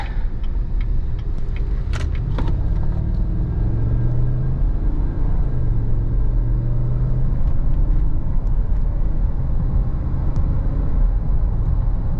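A 6.2-liter V8 in a 2016 GMC Yukon XL Denali with 180,000 miles idles with a steady, deep rumble throughout, joined by a few faint clicks and rattles.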